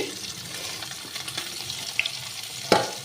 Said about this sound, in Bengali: কড়াইতে তেল দিয়ে 3 পিস মাছ ভাজা হয়েও গেছে